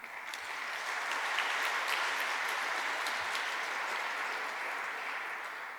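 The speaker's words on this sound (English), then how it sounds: "So I think you all deserve a very hearty round of applause." Audience at the British Asian Trust charity dinner gives a hearty round of applause, a steady wash of many hands clapping that holds evenly for several seconds and fades slightly at the end.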